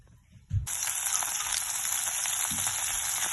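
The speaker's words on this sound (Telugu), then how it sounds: "ఆల్ ఇంగ్రీడియంట్స్ని దోరగా వేపుకుందామండి" Spices and ingredients roasting in oil for methi chutney, a broadband sizzle that starts abruptly after a brief thump and then holds steady and fairly loud to the end, with a soft knock partway through.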